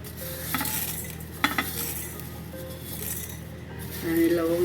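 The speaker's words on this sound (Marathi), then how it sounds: "स्टार फूल आणि त्याच्यामध्ये मी जिरं पण काळी मिरी पण टाकून घेते." Star anise, cumin and black pepper dry-roasting in a pan for a homemade Vidarbha-style spice masala, with soft scraping stirs and light clinks of a utensil against metal over a low background hum.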